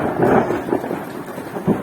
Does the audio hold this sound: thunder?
yes